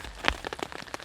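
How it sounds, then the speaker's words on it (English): Rain falling on a tarp during a camp storm, scattered drops patter and tap in quick irregular hits, close and fairly soft. "Rain's getting heavier,"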